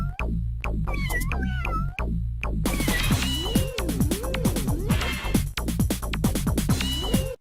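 A cat meows and caterwauls repeatedly in drawn-out, wavering cries, close and loud, over a backdrop of rising and falling tones with sharp hits, as in a horror web show's cat scare.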